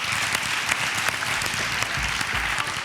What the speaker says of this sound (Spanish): Un aplauso para las cosas que tienen que pasar.